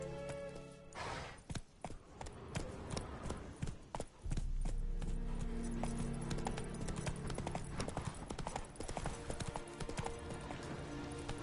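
A horse's hooves clip-clop in The Witcher 3 video game, starting with a few scattered steps and then settling into a fast, steady galloping rhythm over a low game soundtrack drone.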